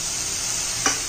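Cumin seeds hit hot oil in a pan of potato, capsicum and cabbage stir-fry, a constant close sizzle broken by one short bright crackle near the end.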